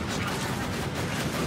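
A deployed sentry turret fires in Borderlands 2, making a dense, steady wash of rapid gunfire and battle noise that holds at an even level throughout.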